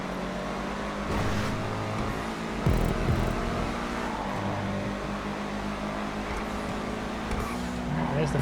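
A ZR350 race car in GTA V roars steadily with a loud engine drone that climbs and drops through gear changes, with brief tire noise and passing surges throughout.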